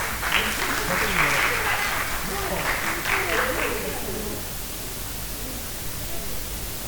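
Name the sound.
audience applause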